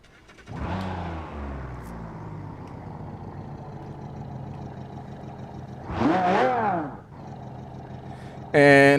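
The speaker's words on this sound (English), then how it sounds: "as you can hear, it is a V12" A V12 car engine idles with a steady low rumble, then revs up sharply in a rising roar around the middle before settling back, followed by a brief loud burst, in a city-streets rally game.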